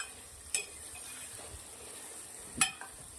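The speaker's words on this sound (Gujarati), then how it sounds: "ફણસી નાખ્યા પછી સરસ મજાનું મિક્સ કરી દેશું।" A spatula stirs potatoes and French beans in oil in a pan, a soft low sizzle running underneath with two sharp scraping clinks against the metal.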